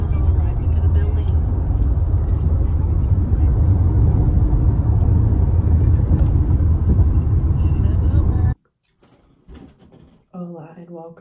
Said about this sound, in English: Driving to the building.